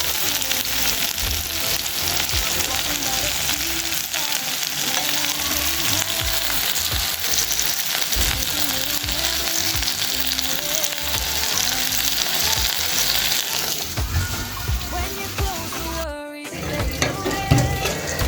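Cassava (muhogo) pieces frying in a pan of hot oil, a loud, steady sizzle and crackle running throughout with occasional stirring clatter.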